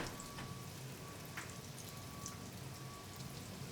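Eggplant slices frying in olive oil in a pan give a steady, soft crackling sizzle, faint and continuous with no talking.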